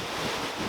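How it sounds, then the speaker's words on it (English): Wind buffets the microphone with a constant roar as surf rushes in at Myrtle Beach during Hurricane Hermine, a brief, loud, unbroken wash of noise with no talking. "Hurricane Hermine."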